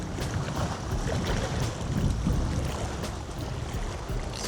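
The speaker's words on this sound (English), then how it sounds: "I do like how the wind's blowing in here." Wind blows steadily beneath a massive bridge by the water, a broad, rumbling gusty roar buffeting the microphone with no voices.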